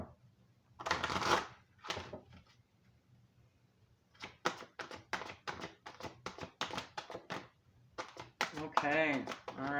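Halloween Oracle cards being shuffled and drawn: a quick riffle, then a long run of rapid, crisp card flicks and taps, close by, with a voice speaking at the end.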